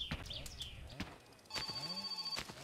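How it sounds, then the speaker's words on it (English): A telephone rings in the video game My Summer Car as a steady electronic tone held for about a second, mixed with other in-game sounds and a brief voice. "we've got another phone call"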